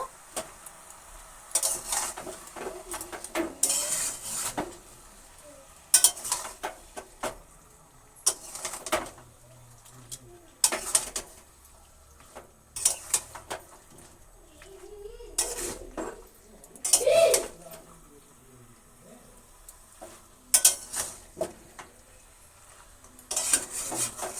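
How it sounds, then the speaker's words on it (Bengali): A chicken curry being stirred in a pan over a high gas flame, with repeated clanking scrapes of a spoon against the pan in irregular bursts and a faint sizzle underneath. "একটু গ্যাসটা জোর করে একবার নেড়ে দেব।"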